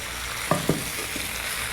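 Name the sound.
fried tofu stirred into frying noodles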